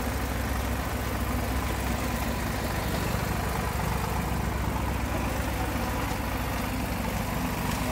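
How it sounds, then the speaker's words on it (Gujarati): A large tractor engine runs a groundnut thresher pulling green peanuts on a farm, giving a steady, unbroken low mechanical drone at close range for the whole stretch, with no voices. "ટ્રેક્ટર છે એટલે મોટું ટ્રેક્ટર છે."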